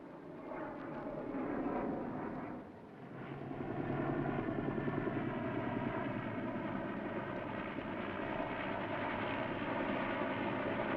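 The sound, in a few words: helicopter approaching crash site in film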